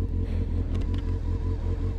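A motorcycle engine under load rumbles steadily at low revs, growing quieter as it delivers power, a deep throbbing drone held close without pause.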